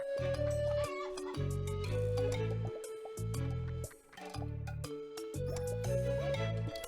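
Water chickens in the video game Terracards cluck in quick, repeated bursts over steady, rhythmic game music, loud and close throughout.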